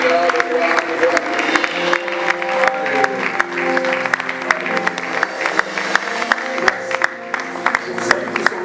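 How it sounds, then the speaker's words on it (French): Congregation at a civil and religious wedding ceremony clapping rhythmically and steadily alongside loud music, a sustained crowd sound with some cheering mixed in. "nous allons encore acclamer le roi des rois pour la bénédiction initiale"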